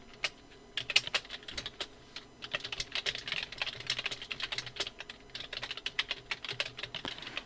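Quick bursts of typing on a computer keyboard, a close run of light, irregular key clicks that start sparse and grow denser, with no talking.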